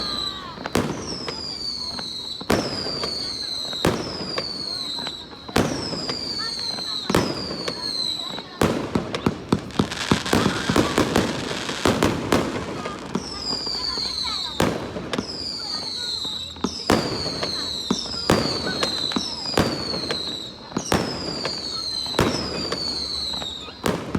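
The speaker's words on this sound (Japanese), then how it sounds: "花火で綺麗だね。" Fireworks at a summer festival burst in a rapid series of loud, sharp cracks and booms, with a dense crackling barrage midway, then further regular explosions, while people chat faintly nearby.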